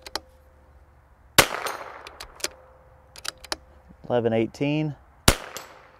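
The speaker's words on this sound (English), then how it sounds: "we're going to shoot five just like we did on the other test and see what we get" Two loud rifle shots fired with SK Long Range Match ammunition over a chronograph, several seconds apart, amid lighter clicks and clanks, with a person speaking briefly between them.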